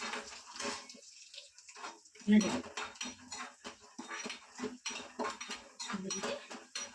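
Metal utensil scrapes and clinks against a pot in irregular strokes while stirring a cumin tempering for bisi bele bath, close up, with faint sizzling underneath.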